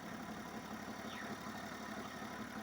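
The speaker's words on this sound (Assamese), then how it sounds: "চাওক, ধুনীয়া হৈ আছে ইঞ্জিন।" A small Maruti car engine runs at a raised idle, a steady, continuous mid-low hum with no breaks. It sounds faint and fairly distant, with no talk over it.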